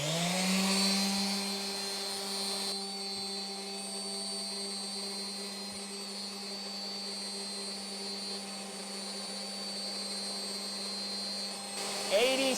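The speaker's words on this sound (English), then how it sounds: "Kick on the sander." A Ryobi 40V sander runs off a Ryobi 40V power station inverter, giving a steady, even motor whine with a constant hum from start to finish, close to the microphone and loud.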